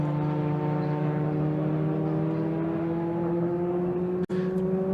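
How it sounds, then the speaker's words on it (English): A Mini Challenge Clubsport race car drives down the pit lane at Donington Park, giving a steady engine drone with a brief click near the end and no speech. "You can hear a car coming down pit lane."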